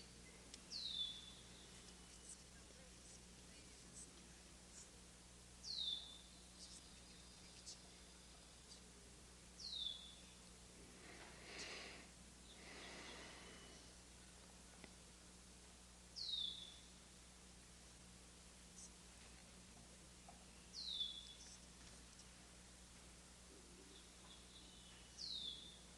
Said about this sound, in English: The birds have the last word.